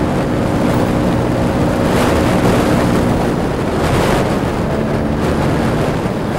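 Vespa GS 150 scooter fitted with a P200E engine, ridden hard with a continuous loud engine roar buried in heavy wind rush that persists throughout, rising and falling slightly with throttle.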